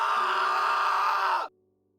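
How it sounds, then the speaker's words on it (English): A woman's scream sound effect in a spooky tale set on a train: one sustained, strained cry that stays loud for about a second and a half, then cuts off abruptly into silence. "she heard a scream from behind."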